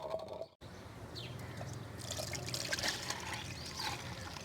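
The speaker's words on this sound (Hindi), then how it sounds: "कंटिन्यू 4 दफ़ा हमने इसको छानी करना है पानी डाल डाल के।" Water is poured and trickles steadily through a strainer while thandai (sardai) drink is strained, a soft continuous splashing and dribbling close by after a brief cut near the start.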